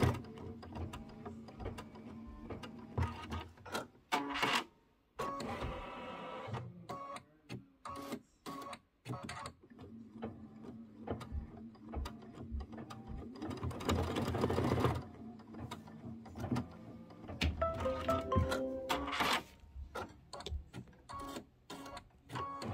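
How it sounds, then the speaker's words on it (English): An embroidery sewing machine stitches out snap placement lines, a steady rapid needle chatter with brief pauses and bursts of faster stitching, close and clear with no talking. "It's going to stitch out the snap placement lines."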